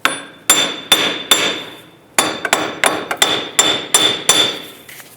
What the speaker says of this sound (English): Just continue tapping on the hub, and this should pop off.